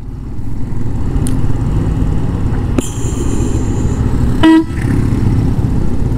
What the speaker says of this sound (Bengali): দেখেন আমাকে কিভাবে হর্ন দেয় পিছন দিয়া ট্রাক